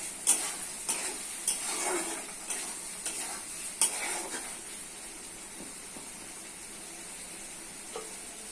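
Chicken pieces sizzle with spices and bay leaf in a pan, with a spatula scraping and clinking in irregular strokes over a soft, steady frying hiss.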